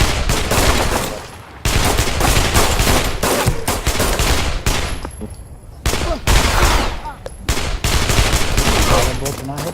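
Rapid game gunfire rattles in loud, dense bursts with brief gaps between volleys, sounding close and sustained, with a few quieter pauses along the way.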